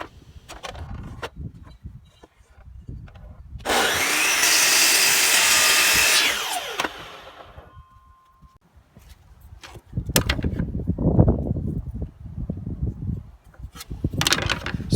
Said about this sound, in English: I'm just cutting off the excess overhang